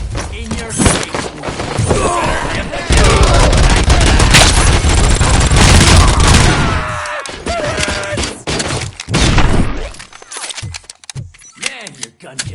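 Gunfire in the RoboCop PS5 video game: loud bursts of rapid automatic shots and heavy impacts with shattering debris, dense at first and then thinning into scattered blasts, with voices talking at times.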